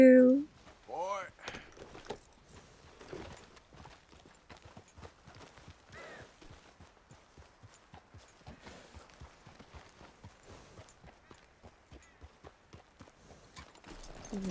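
Rhythmic clip-clop of a horse's hooves in Red Dead Redemption 2, steady and moderately near throughout, with a voice speaking at the start and brief rustling and jangling sounds over the trotting.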